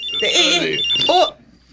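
A mobile phone rings with an incoming call in a radio drama, a bright electronic ringtone trilling close and loud, with voices talking over it.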